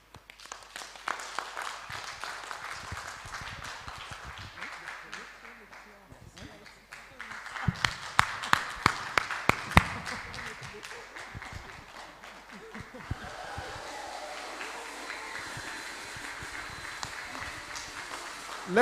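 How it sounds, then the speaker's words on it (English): Audience applause at the launch ceremony of the Open Forum on Agricultural Biotechnology Malawi chapter, with scattered claps building into a sharper burst of clapping midway, then a steadier wash of applause that carries on to the end. "Let us applause."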